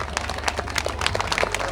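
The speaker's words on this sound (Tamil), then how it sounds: "எல்லோரும் கைத்தட்டலாம்." Audience applause at a temple dance event in Kariacheri, a steady wash of clapping from a crowd that stays even and unbroken throughout, with no voices rising above it.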